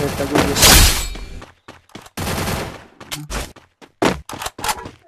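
Gunfire bursts from a Free Fire battle match, loud and close at first, then choppy intermittent shots with voices talking over the fight.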